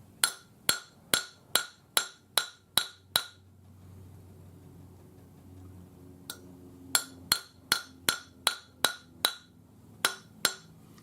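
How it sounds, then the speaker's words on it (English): Steady hammer blows from the flat face of a hammer striking a forged twisted metal bangle, about eight sharp ringing hits, a quiet pause, then another run of regular strikes, close and loud with no talk. "we'll use the flat side of our hammer"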